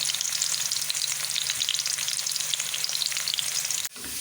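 Steady, dense sizzling of onions frying light brown in a hot pan, loud and continuous, with a brief dip near the end.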